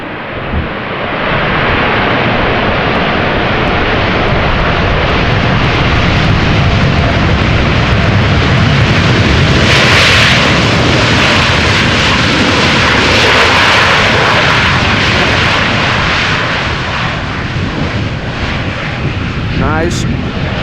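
An airliner lands at Amsterdam Schiphol on a windy day and runs its thrust reversers, producing a loud, sustained roaring rush that swells and holds for many seconds.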